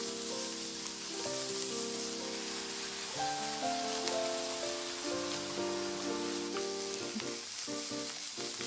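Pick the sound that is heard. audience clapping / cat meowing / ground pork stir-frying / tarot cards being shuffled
ground pork stir-frying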